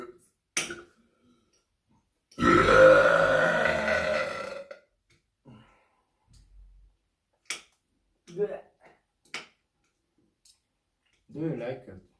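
One long, loud, rumbling burp at home, surrounded by sparse clicks and brief bits of talk in an otherwise quiet room.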